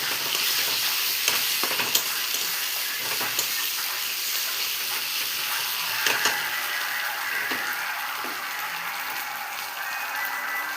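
Ground cumin paste and chili paste fry in hot oil, a continuous loud sizzle and hiss with occasional stirring clicks and scrapes.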